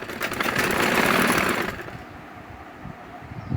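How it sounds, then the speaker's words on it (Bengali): A sewing machine stitches stretched elastic onto a hijab, running steadily and fairly close for under two seconds before stopping, leaving a quiet room with faint handling noise. "আমি একটু একটু করে রাবারটা টেনে ধরবো আর সেলাই দিয়ে দেবো।"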